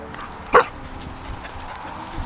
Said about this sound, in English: I can't do this while she's barking.